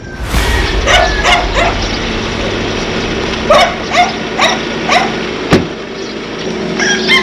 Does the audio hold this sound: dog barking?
yes